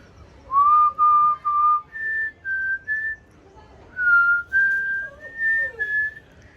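Someone whistles up close, loud and clear, in two phrases of short sustained notes that step upward in pitch, with a brief pause between the phrases.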